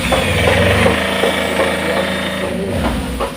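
A Tata EX2 truck engine running at idle, a loud, steady diesel rumble with a rhythmic knocking throb and no voices over it.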